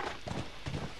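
A horse's hooves clip-clop in the video game The Last of Us, a few quick, muffled, fairly faint steps in close succession, with no talking.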